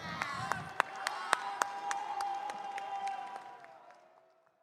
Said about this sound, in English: Congratulations, big round of applause.